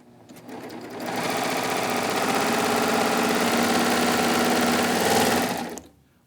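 A serger stitches a 3-thread rolled hem along the edge of delicate fabric for a baby blanket, running a fast, even mechanical whir for about five seconds that starts and stops cleanly and is heard alone at close range.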